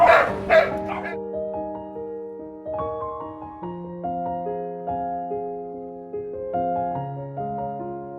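A small dog at an animal rescue shelter yips and barks a few times up close, then falls quiet under gentle background music.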